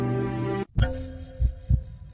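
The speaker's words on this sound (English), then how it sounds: "This is the beating heart of an African ready for what is next." A heartbeat sound effect in an advert: low, thudding double beats under a sustained droning tone, preceded by a brief silent gap and then two or three distinct pulses in a slow rhythm.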